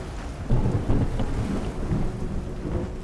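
Stormy sea in the game Love and Deepspace, with deep rolling thunder rumbling over steady rain, loud and close with no voices.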